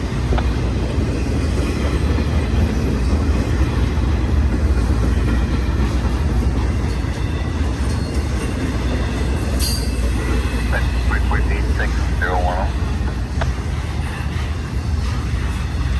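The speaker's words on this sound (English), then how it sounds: "I have a Z train that's coming in at El Monte." Loud, continuous rumble of a train rolling past, with metallic wheel squeals and screeches rising partway through.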